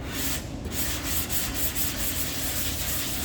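A DA sander runs continuously on the aluminum bed of a 2016 Ford F-150, giving a steady, loud abrasive whir with slight pulsing as the pad moves over the metal; no voices are heard.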